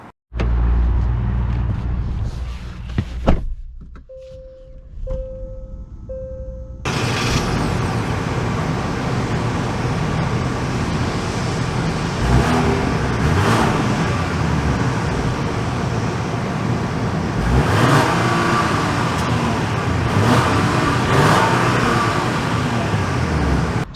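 A 2022 Genesis GV70 Sport Prestige SUV heard from inside while driving on the road, a steady low engine and tire rumble with road noise that rises after a brief quieter start and holds evenly throughout.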